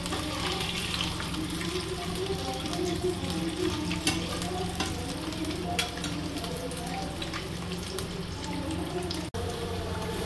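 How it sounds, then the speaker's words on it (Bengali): Eggs frying lightly in a pan for Bengali egg korma, a steady close sizzle and hiss running throughout with a few small clinks, no talk. "যতক্ষণ মশলাটা কষছে ততক্ষণ আমি ডিমটা একটু ভেজে নিচ্ছি"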